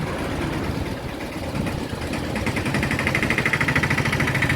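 A motorbike engine hums steadily while riding, loud and close with a low, throbbing pulse and rushing wind noise, growing slightly rougher toward the end, with no talk.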